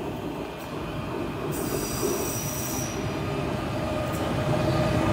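A train screeches hard as it brakes at Den Haag Centraal station, high metal wheel squeal rising over a steady rumbling roll of the railcars, with no voices.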